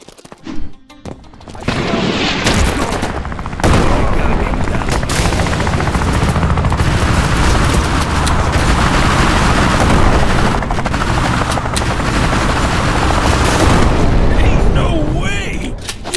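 Dense, loud gunfire and rumbling explosions from a Killer Bean animated cutscene pour out continuously after a short quiet start, with a whirring helicopter drone underneath.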